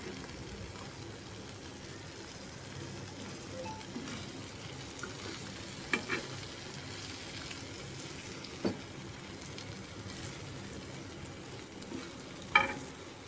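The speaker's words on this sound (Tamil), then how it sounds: "நல்லா ஃப்ரை ஆகட்டும். லைட்டாக கொஞ்சம் எண்ணெய் விட்டுக்கலாம்." Dried seer fish fries on a tawa over low flame, a faint steady sizzle with occasional soft taps and clinks of turning, without speech.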